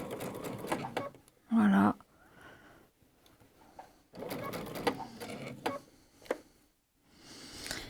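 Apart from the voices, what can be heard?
sewing machine sewing a jacket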